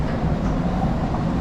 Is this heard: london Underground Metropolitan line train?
yes